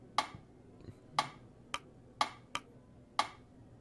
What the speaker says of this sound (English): A metronome ticks away steadily.